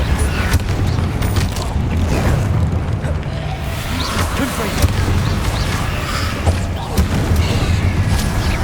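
Confringo explosive spell blasts in Hogwarts Legacy land as loud, rumbling booms over a dense, continuous bed of combat noise and game music, with brief voices heard in places.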